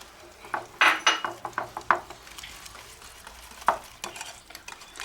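Melted butter and chocolate being stirred with powdered sugar for a quick molten lava cake, a hand whisk or spoon scraping and clinking against the bowl in irregular close strokes, with a few sharper taps, no talking.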